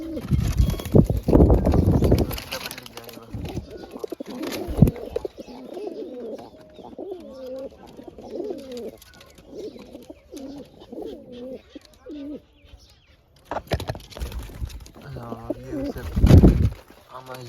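Wild black pigeons coo close by in a house near a window, giving repeated soft, throaty rolling calls through the middle of the clip, with louder rustling and brief talking at the start and end.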